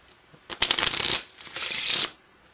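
Playing cards are riffle-shuffled close up in two quick, crisp bursts of flicking and rattling with a brief pause between, and no voices.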